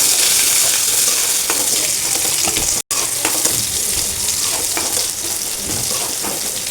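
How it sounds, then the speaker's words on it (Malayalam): Onions with fenugreek seeds frying in oil for Ayala fish curry, a loud, dense, continuous sizzle with scraping stirs and a momentary dropout partway through. "അതിൻ്റെ ഒപ്പം തന്നെ ഉള്ളി ഇട്ട് കൊടുക്കാം. അതൊന്ന് ശരിക്കും മൊരിയിട്ട് കൊടുക്കാം."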